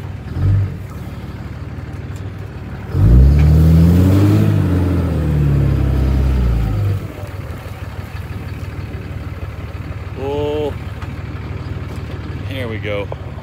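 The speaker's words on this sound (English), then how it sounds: "Well, I'm gonna get my truck stuck out here." A pickup truck's engine revs hard while stuck in dirt, a loud rising-and-falling roar in the middle stretch over a steady idle rumble, with people talking throughout.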